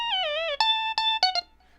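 Roland TB-3 synthesizer sequencer pattern, solo and clear: a gliding, wavering opening note followed by a few crisp staccato notes at a higher pitch, ending in a short fading tail.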